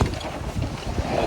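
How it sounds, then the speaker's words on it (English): A sailboat under way with a single-reefed mainsail and full jib, heading toward Gore Bay in the North Channel: steady close rush of water and wind noise against the hull, continuous and fairly loud with no talk. "So happy to be sailing again under single reef main and full jib."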